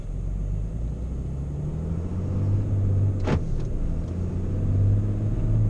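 A commercial truck fitted with a ZF PowerLine automatic transmission pulls away in second gear, a steady low engine rumble heard from inside the cab throughout, with a brief whine rising midway.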